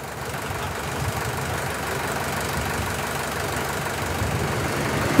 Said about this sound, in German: betreibt ein Traktor die Schnittmaschine